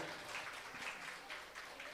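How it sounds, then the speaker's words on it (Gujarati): An audience at a Bhagavat Katha gathering in Haridwar claps in a soft, steady burst of applause, faint and distant throughout. "તાળીઓના ગડગડથી વધાવીએ."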